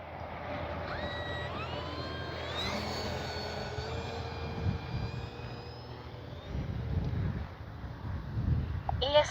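An E-flite Cherokee RC model airplane flies low past the field, its electric motor whining and sweeping up in pitch as it passes, with wind buffeting the microphone and bursts of rustling nearby.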